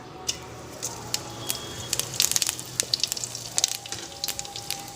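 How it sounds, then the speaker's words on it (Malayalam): A spoonful of cumin seeds sizzles in about two spoons of hot oil in a pan, a soft steady frying hiss with scattered crackles and pops, close and fairly quiet. "എന്നിട്ട് നമുക്ക് 1 സ്പൂൺ ജീരകം ഇട്ട് കൊടുക്കാം."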